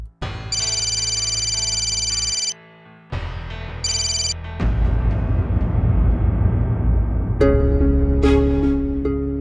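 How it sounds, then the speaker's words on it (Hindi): A telephone rings with repeated electronic ringtone bursts separated by short pauses, loud and close, with no talking. "राम मेरा फोन क्यों नहीं उठा रहा?"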